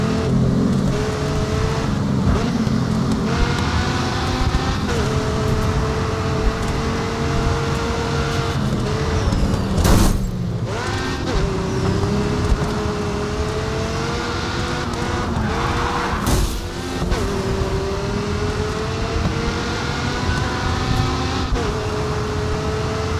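A Dodge SRT Viper GTS races on a California circuit in GRID 2, its engine roaring steadily and loud throughout, with shifting pitch as it accelerates and a couple of sharp tire-squeal skids along the way.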